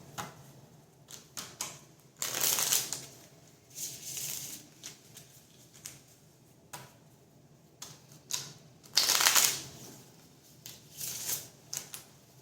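A tarot card deck is shuffled up close: several longer riffling bursts mixed with short taps and flicks of the cards, with no voices.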